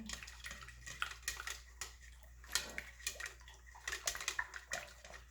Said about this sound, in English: once you get the soap in, you stir it